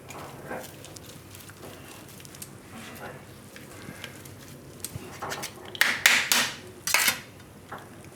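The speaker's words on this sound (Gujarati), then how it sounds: "તો આને આપણે આ રીતે છૂંદો કરી નાખીશું" Boiled taro (arbi) being mashed for paratha in a kitchen bowl, with soft squishing and scattered taps of utensil on dish, growing into a few louder clanks near the end.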